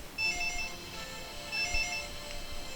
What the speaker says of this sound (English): The phone is ringing in the living room.